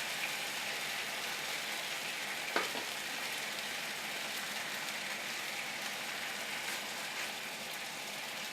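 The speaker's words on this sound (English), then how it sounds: "so they could get a little bit of color when we cook them in the pan" Teriyaki-marinated turkey pieces frying in a pan, giving a steady, close hiss of sizzling with a single sharp click of the pan partway through.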